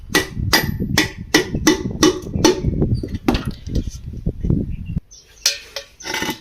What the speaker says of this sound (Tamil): ஓகே இப்போ நம்ம லைட்டாக தட்டிக்கலாம்